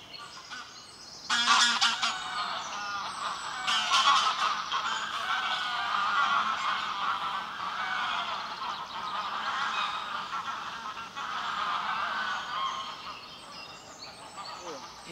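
Geese honk and squabble at a lake at dawn, joined by other waterfowl. The calls are loud and layered and come in repeated noisy bursts that last the whole time.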